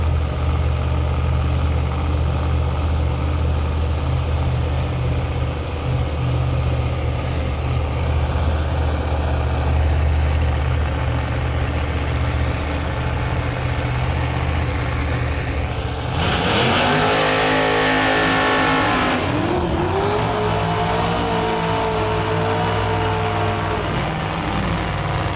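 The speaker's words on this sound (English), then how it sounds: "we got a screw-blown CTSV coupe far side of the track and a turbo Fox body in our lane" Drag racing cars at a Lights Out 17 testing event, a screw-blown CTSV coupe and a turbo Fox body: a loud, steady engine drone erupts midway into a roaring, rising launch that then settles back.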